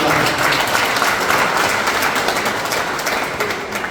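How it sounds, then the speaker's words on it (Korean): An audience applauds press photographers at a memorial photo exhibition, with dense, loud clapping that stays steady for a few seconds before easing slightly. "자리를 함께해 주신 우리 사진 기자 여러분들께 특별한 감사의 박수 보내드리겠습니다"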